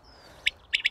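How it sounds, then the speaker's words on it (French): A male common quail sings in a meadow: three short, sharp whistled notes, the first alone and the next two close together, near and clear over a quiet background. "C'est la caille des blés, hein."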